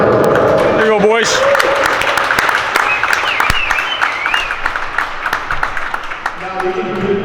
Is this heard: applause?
yes